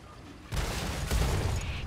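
A tank cannon in World of Tanks Modern Armor fires with a sudden deep boom, followed a moment later by a second heavy blast, both close and loud over a rumbling battlefield background.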